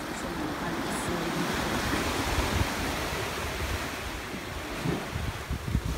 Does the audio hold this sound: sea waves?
yes